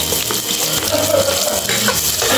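Garlic sautéing in a pan for spicy chicken adobo, a loud, continuous close sizzle that holds steady throughout with no speech.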